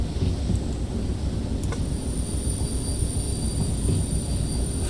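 A freight train braking in the Derail Valley railway simulator, a steady low rumble of rolling wheels and heavy machinery with a faint high brake whine and a few brief clanks.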